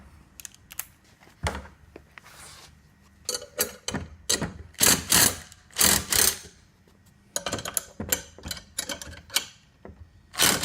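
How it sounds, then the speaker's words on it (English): A ratchet loosens the bolts on a wheelie bin hitch in irregular bursts of close, sharp clicking, with brief pauses and a few metallic knocks between strokes and no talking. "Just again loosen these two bolts a little bit."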